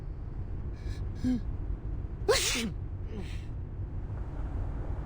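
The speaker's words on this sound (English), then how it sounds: "That's your 9th sneeze since we got here." A sneeze bursts out once midway, loud and close, after a couple of faint breathy sounds, over steady low background rumble.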